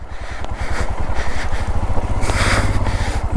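A motorcycle engine chugs steadily and loudly while riding through fast-flowing river water on a rough mountain road between Shinkula Pass and Jispa, with a broad rushing wash of water and splashing over the engine throb.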